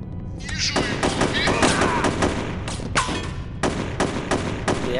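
Rapid gunfire from the shooter game Chaser: dense bursts of loud, overlapping shots crackle almost nonstop, with brief gaps and heavier thuds mixed in.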